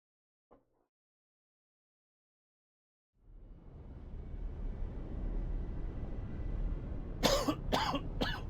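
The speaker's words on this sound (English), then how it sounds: "I do truly apologize if I'm coughing into anybody's ear." A streamer coughs into a headset microphone, one brief cough early, then a quick cluster of sharp coughs near the end over a steady low background hum.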